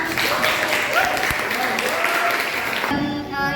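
Applause from an audience, brief clapping lasting about three seconds before it cuts off abruptly.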